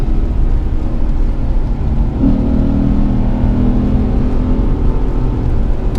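Lexus RC F exhaust note accelerating up a wet mountain canyon road in the rain, a loud, continuous droning roar with a rising tone in the middle, heard from inside the car.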